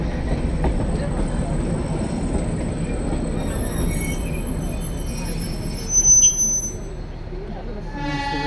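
Ooty toy train on the Udagamandalam to Mettupalayam line, running steadily with a continuous low rumble and some faint high wheel squeal, close by, with a brief louder burst near the end.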